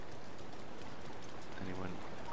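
Rain falling in the video game Zelda: Breath of the Wild, a faint steady patter of drops with a brief low murmur of talk near the end.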